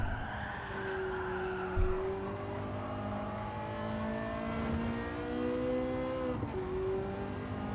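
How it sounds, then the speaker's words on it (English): Race car in Gran Turismo 7 holding a steady high-pitched engine note that rises and shifts as it accelerates and the throttle is pumped, with tyre squeal woven through and no talk. "letting the car get out to that outside line and pumping the throttle down"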